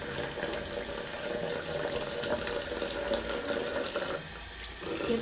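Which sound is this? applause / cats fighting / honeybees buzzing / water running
water running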